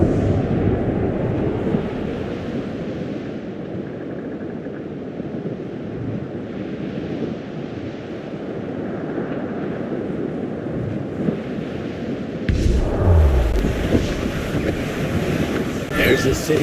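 Wind and waves rush steadily while a sailing ship moves in the Assassin's Creed Rogue video game, a continuous blustery roar with a louder surge near the end.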